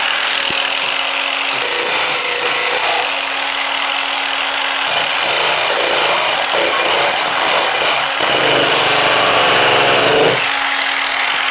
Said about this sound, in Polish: uniwersalnym narzędziem do otwierania skrzynek z amunicją jest taka iskrząca szlifierka kątowa